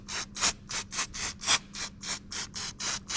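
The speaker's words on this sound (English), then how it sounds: "I'll probably use a little bit of Scotch pad or something just to clean that up with" Scotch pad scrubbing engine gasket mating surfaces on a Mitsubishi L200 throttle body, making a close, rhythmic back-and-forth rasp of about ten even strokes with no talk.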